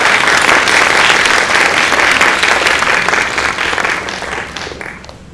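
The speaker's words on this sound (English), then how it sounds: "Let's hear a round of applause for him." A lecture audience applauds a speaker at a talk on precision aging, loud dense clapping that holds strong and then thins and fades out over the last couple of seconds.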